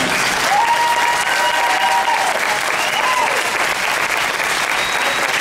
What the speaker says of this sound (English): to recognize Congresswoman Barbara Buchanan, who deserves everybody's applause.